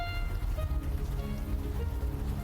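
Rain pours steadily onto a concrete floor against a wall in the game Unavowed, a dense, continuous patter with no voices.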